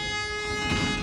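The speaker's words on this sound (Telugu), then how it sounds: "విశాఖపట్నం నుంచి సికింద్రాబాద్ వందే భారత్ ఎక్స్ప్రెస్ ట్రైన్ ఇది." Visakhapatnam–Secunderabad Vande Bharat Express train passing with a steady rushing rumble and a sustained tonal horn-like whine, fairly loud and close, with no voices.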